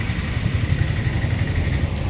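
A Kia Carens seven-seater car rolls in close by with a steady low engine rumble, heard briefly and continuously.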